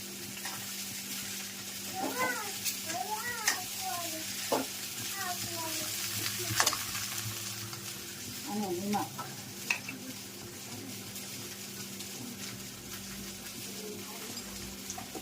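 Chili, turmeric and cumin sizzle in a tempering for a maize chevda, a soft steady frying hiss with occasional stirring clinks; a voice talks faintly in the middle stretch.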